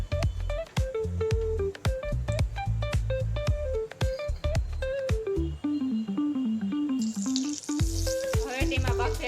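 Mustard seeds, cumin and a spoonful of asafoetida sizzle in heated oil, a steady crackle that swells near the end, heard under prominent melodic background music.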